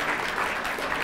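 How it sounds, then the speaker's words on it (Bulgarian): A brief burst of steady clapping from a crowd, dense and even throughout. "Силни аплодисменти за Галя"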